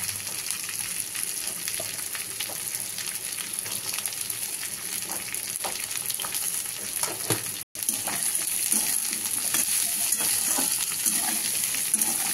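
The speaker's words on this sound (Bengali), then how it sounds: "আমার ভাজা পেঁয়াজ আলু সব ভাজা হয়ে গেছে।" Chopped onion and potato fry in a pan with a constant, close sizzle and occasional stirring scrapes. A brief cut falls about two thirds of the way through, then the frying carries on slightly louder.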